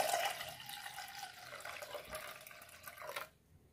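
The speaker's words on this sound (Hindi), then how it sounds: "एक पानी से इसको और धोएंगे।" Lentils being rinsed in a bowl of water, with steady sloshing and splashing of water close by that runs continuously and stops abruptly near the end.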